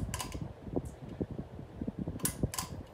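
A Harbor Breeze Vue 44-inch bronze ceiling fan runs nearby with a faint, steady airy whoosh, broken by light clicks and a few brief rustling bursts.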